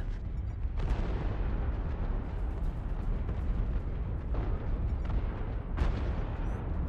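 A tank strike explosion in a video game: a sustained, dense, roaring rumble of blasts, with several sharper bursts cutting through at intervals.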